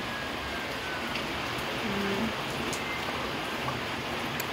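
Steady, dense rain falling all afternoon during Typhoon Nando in La Union, Philippines, a continuous even hiss of moderate loudness with no clear breaks.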